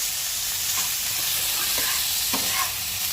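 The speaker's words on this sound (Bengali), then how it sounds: "এবার যে পেঁয়াজগুলো আমি কেটে নিয়েছি পেঁয়াজগুলো এর মধ্যে দিয়ে দিলাম" Chopped onions are added to chicken frying in a pan for white sauce pasta, producing a dense, even hiss of sizzling oil throughout with faint stirring scrapes and no talking.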